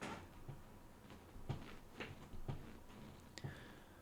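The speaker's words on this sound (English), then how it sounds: "My chair leaning." Faint creaks and small knocks from a chair shifting its weight, several soft irregular sounds over low background hum.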